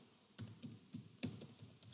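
Typing on a computer keyboard, with a few quiet, close key taps in an irregular rhythm and no talk.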